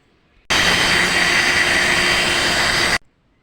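A kitchen mixer grinder blends beetroot pieces with water for a lemon juice drink, its motor a loud, steady whir running for about two and a half seconds before cutting off abruptly, with no talking.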